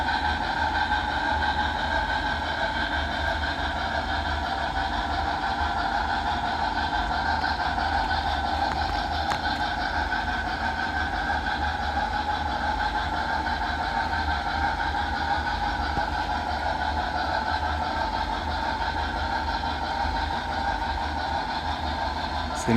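A BLI 2-8-2 Mikado model steam locomotive running around a model railroad layout, a steady continuous mechanical hum and chuff with constant loudness throughout, with faint talk underneath.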